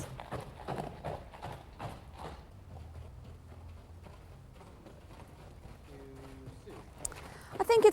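A horse with a right forelimb lameness walks, its hooves striking in a slow, steady clip-clop that is clearest early on and fades toward a quieter middle before a sharp noise at the end.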